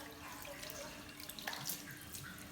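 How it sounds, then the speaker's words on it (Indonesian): Running tap water splashes over hands being rinsed up to the elbows in a handwashing routine, a steady moderate wash with faint drips and no talking. "Kemudian kita bilas dengan air yang mengalir hingga ke siku."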